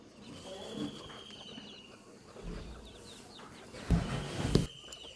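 Broody hens clucking softly in the background with a few louder bursts near the end, amid quiet ambient noise.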